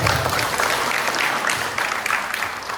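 Applause from a church audience at a Christmas choir cantata, a dense wash of clapping that fills the whole moment at a steady, fairly loud level, with no voices over it.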